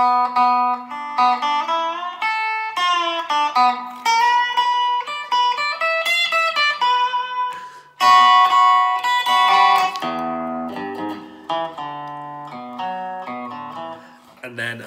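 Electric guitar plays the Day Tripper riff and then moves into the solo, bright and close, with a steady rhythm of picked notes and bends carrying on continuously without talk.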